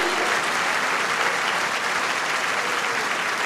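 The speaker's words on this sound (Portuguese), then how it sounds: "Pode dar um aplauso ao Senhor?" A large church congregation applauding in praise, a dense, continuous wash of loud clapping that holds steady throughout the few seconds.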